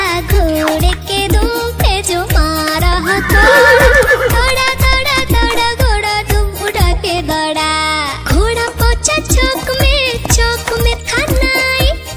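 A horse neighs amid a lively Hindi children's nursery rhyme, with a longer whinny riding over the bouncy musical backing and steady beat throughout.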